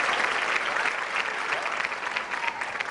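A television studio audience claps together in a dense, steady burst of applause that carries on throughout without pause.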